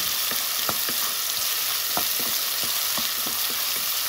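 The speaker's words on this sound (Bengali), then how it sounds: "পালং শাক রান্না করার জন্য পেঁয়াজ রসুন তারপর কাঁচামরিচটাও দিয়ে দিলাম।" Onion, garlic and green chili sizzle steadily in hot oil in a pan for spinach, a constant close frying hiss broken by light stirring scrapes and pops, with no voices.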